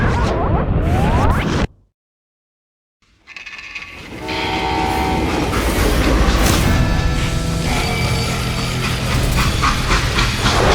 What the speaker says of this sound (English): They hopped a freight train having heard there was a big payroll in the express safe.